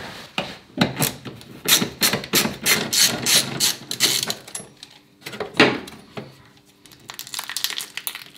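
Ratchet wrench work in a Volvo 740 T5 engine bay, with a 10 mm socket used while taking out parts: rapid, close clicking strokes come in a dense run, then pause, followed by a few scattered clicks and clatters.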